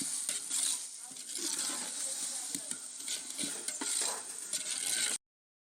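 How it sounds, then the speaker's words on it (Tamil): Tomatoes being stirred into a frying pan for mutton biryani give a continuous bright sizzle with scraping and stirring scuffs, close and fairly loud, ending abruptly in silence. "டொமேட்டோவை சேர்த்து நல்லா கிண்டி விடலாம்."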